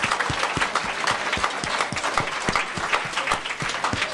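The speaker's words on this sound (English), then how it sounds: "I think we should clap for all of you and your dedication." Sustained applause from an audience at an Maharishi Institute talk, dense hand clapping filling the room at steady volume for the whole stretch with no pauses.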